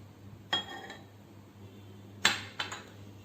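Salt and vegetable oil are mixed into maida flour in a bowl, giving a few sharp clinks of a spoon against the bowl over a quiet low hum.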